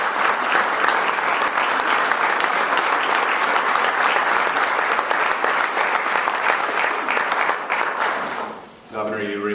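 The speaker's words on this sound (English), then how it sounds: "Give him a round of applause." Dense audience applause at a public event with Governor Kasich on hospital research funding, loud sustained clapping from a large crowd that thins out and stops just before the end.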